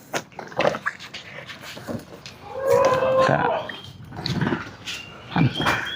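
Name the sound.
male goat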